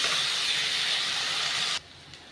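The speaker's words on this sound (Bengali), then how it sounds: "অল্প হলুদ দিলাম, ভালো করে কষিয়ে নেব।" Spices for a small-potato curry sauté with turmeric in a pan, making a loud, even, close hiss that drops away abruptly near the end.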